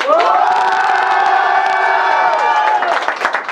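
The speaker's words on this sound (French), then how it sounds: "applaudissez, criez!" Loud cheering and shouting from a crowd at a YouTuber rap battle, a sustained roar of many voices with clapping mixed in, easing off toward the end.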